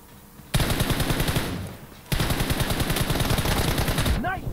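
Rapid automatic gunfire in the battle royale game PUBG, two long sustained bursts of loud close shots separated by a brief pause.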